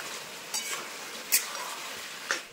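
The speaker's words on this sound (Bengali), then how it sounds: "দিয়ে এভাবে কষিয়ে নেব আমি মাংসটা" Mutton with chopped tomato is stirred and fried in a pot for a thin mutton curry with new potatoes, giving a soft continuous sizzle broken by three brief scraping stirs, faint and close.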